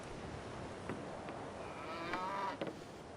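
Cattle moo in the video game Civilization 5, a couple of drawn-out lowing calls rising over a steady game ambience, moderately distant and with no talk.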